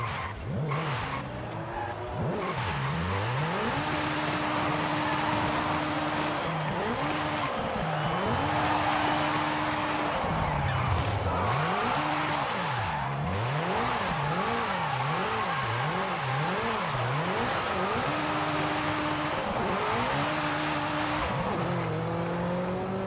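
Engine of a high-revving VTEC turbocharged car on stock tires in Forza Horizon 5, revving continuously with wavering pitch sweeps as it shifts, while tires squeal and skid through corners, loud and sustained throughout.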